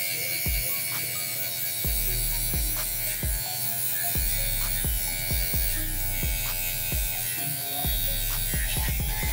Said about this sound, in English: I really do not like this rattle